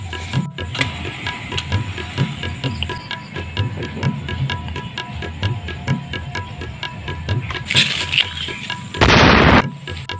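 Sharp pops and crackles of Diwali firecrackers over an outdoor backdrop, then one loud, close firecracker burst near the end.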